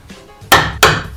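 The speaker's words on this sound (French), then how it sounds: "pour pointer, pas compliqué, un pointeau et un marteau" Two sharp metallic taps of a hammer striking a center punch into wood, spaced about a third of a second apart, close and loud over faint room noise.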